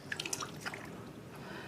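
Water drips and trickles while a newborn's hair is wetted in a bath, a few close, light drops and splashes over a soft watery background.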